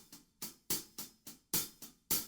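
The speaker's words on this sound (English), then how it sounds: "there's a hi-hat pattern, and it goes just like this." A drum kit hi-hat pattern, played alone, with eight crisp, close metallic strikes in a steady rhythm, alternating lighter and heavier accents.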